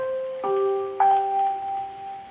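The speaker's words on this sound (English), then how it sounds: "Let's try ding dong with voice number 3." A 2GIG Go Control door chime in its ding dong voice 3 plays two clear, ringing electronic tones, high then lower, close and clean, with the second tone sustaining and fading slowly.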